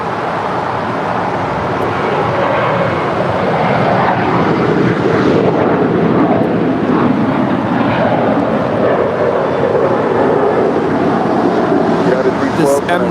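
An MD-11 jet landing on runway 25 right at LAX, a broad roaring rush that builds and holds loud and steady, with wind noise on the microphone.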